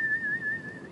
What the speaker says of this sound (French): Si on veut l'avoir, il faut siffler.